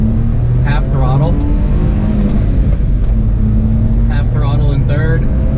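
Small 1994 Honda Acty engine pulling in second gear at about 10 mph on half throttle, a steady low drone running throughout, with someone talking over it.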